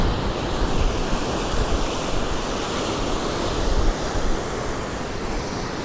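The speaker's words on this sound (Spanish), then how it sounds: "Vean el mar" Sea waves roll onto the shore at dusk beside a forgotten seaside village, a steady, loud wash of surf with wind rumble buffeting the microphone throughout, no voices.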